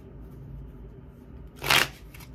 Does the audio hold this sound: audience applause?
no